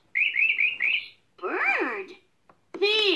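A Fisher Price toy activity table plays a bird chirping sound: a quick run of bright electronic tweets, a longer warbling call, then a final trill, close and clear with short silences between.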